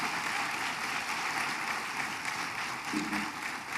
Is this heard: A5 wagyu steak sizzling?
no